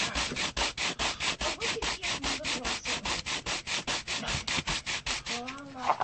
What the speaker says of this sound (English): I can sand the back, put pressure on the area where I want to flatten it out and remove material on the back.